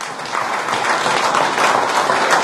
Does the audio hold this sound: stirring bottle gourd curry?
no